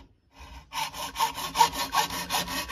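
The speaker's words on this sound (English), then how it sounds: "using a hacksaw." A hacksaw cuts a plastic seat protector strip in quick, rhythmic back-and-forth rasping strokes, close and moderately loud after a brief quiet start.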